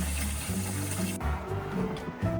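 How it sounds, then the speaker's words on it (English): Tap water runs steadily into a water filter, a continuous rushing pour whose tone shifts partway through as the flow or fill level changes, close and fairly loud with no voices. "Filled my water filter."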